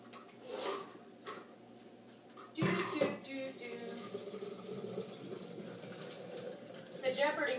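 A tap runs with a steady rushing stream of water after a brief pause, continuing under intermittent talking nearby.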